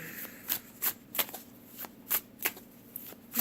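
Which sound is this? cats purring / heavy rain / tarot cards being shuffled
tarot cards being shuffled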